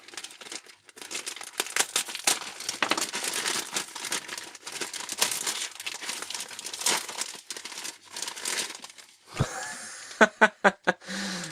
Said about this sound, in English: I'll just slice right through this here and take a look at what's inside.